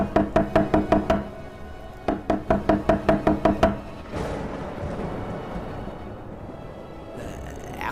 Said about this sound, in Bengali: দরজার উপরে ধাক্কাও থামল না।